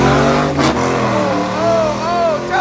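A Chevy car revs and accelerates hard at a street drag race night, loud and close, with the engine note rising and falling as voices of the crowd mingle underneath.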